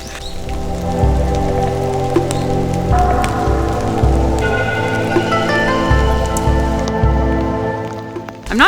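Steady rain patters on an umbrella outdoors in Fujiyoshida, Japan, a dense, continuous close hiss with occasional heavier drops, running alone without talk.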